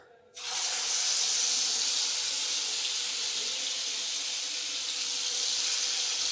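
Masala for stuffed brinjal dropped into hot oil, bursting into a loud, steady sizzle that holds at close range for several seconds with no talk over it.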